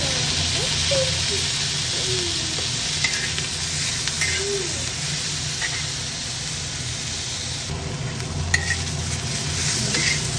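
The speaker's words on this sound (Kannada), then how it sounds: "ಟೊಮೆಟೊ ಚೆನ್ನಾಗಿ ಫ್ರೈ ಆಗಿದೆ." Tomatoes frying in oil in a pan for a drumstick leaf bassaru, giving a constant dense sizzle with occasional stirring clinks and scrapes, close and fairly loud, with no talking.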